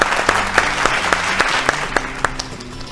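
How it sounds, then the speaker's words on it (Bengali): A game show studio audience bursts into loud, sustained applause, a dense clatter of hand claps that fills the whole stretch without pause. "জোরে হাততালি"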